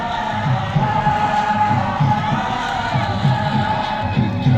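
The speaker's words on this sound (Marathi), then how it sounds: "आपल्या जोरदार टाळ्या वाजवूया आपण यांच्यासाठी" A large outdoor crowd at a Republic Day school event cheers and claps steadily, a dense continuous roar with shouts mixed in throughout.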